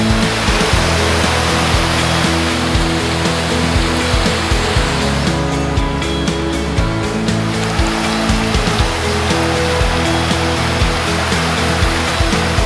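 River rushing down from the Peña Labra and Peña Sagra mountains, a loud, steady broadband roar of flowing water heard up close, continuous and unbroken with no voices.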